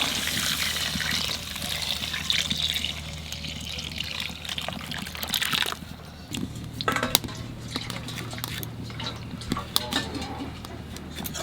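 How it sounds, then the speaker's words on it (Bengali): Water poured into masoor dal cooking with raw tomato and tender bottle gourd, a continuous trickling gush over pot clinks and kitchen background noise. "এখানে জল দিয়ে দেবো"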